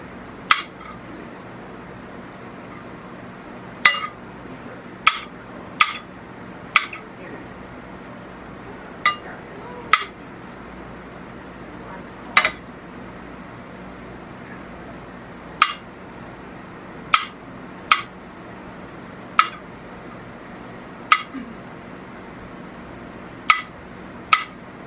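A sharp Rachael Ray kitchen knife chops onions on a plate for chicken salad, tapping out crisp, irregular clinks every second or two against a quiet background.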